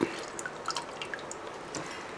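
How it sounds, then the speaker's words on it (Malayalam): Tamarind soaking water is poured away, with faint, sparse drips and small splashes over a quiet hiss. "ആ വെള്ളം എടുക്കണം എന്നിട്ട് അങ്ങ് കളയാം"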